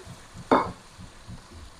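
Petai beans dropped into a pan of frying clams, a single sharp sizzling burst that rises suddenly and fades within a moment over a quiet pan.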